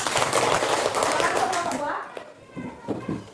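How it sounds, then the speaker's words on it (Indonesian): Schoolchildren in a primary classroom clap for a class group, a dense burst of close hand claps for about two seconds that fades into scattered children's voices. "Beri tepuk tangan dulu untuk kelompok 2."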